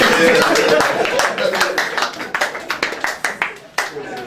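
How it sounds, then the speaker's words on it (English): A crowd claps steadily together, the applause settling into a rhythm of separate claps toward the end, close and fairly loud, with no talking. "You can clap for him if you feel like that."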